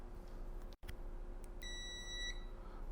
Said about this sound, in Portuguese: Multímetro, um teste de continuidade.